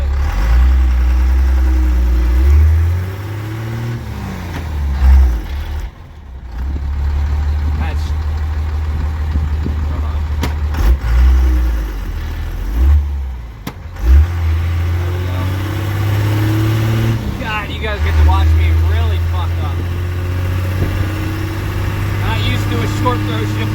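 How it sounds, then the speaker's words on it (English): A second-generation diesel truck swapped to an NV5600 manual transmission pulls through the gears, its engine droning loud and close as the revs climb and drop at each shift, with turbo whine under the rising pitch and someone talking throughout. "Turbo is very quick to spool, but it does not spool like my truck's turbo"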